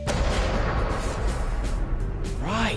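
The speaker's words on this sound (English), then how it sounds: "We needed some... Explosions." A special-effects blast for a wedding prank booms out and rolls into a long, heavy rumble that fills the whole moment. A brief tonal squeal rises at the very end.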